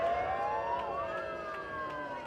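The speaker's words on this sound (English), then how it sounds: "people are setting off sirens" Sirens set off by protesters at a demonstration in Cleveland wail with rising and falling tones, several overlapping at moderate distance, with no talk.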